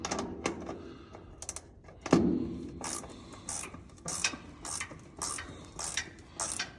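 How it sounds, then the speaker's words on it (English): A speeder wrench ratchets a bolt loose while a GMC 5500 flatbed is being worked on, giving a run of sharp mechanical clicks in short bursts and one heavier clunk, close by, with no talking. "My little speeder wrench here. Got that one loose."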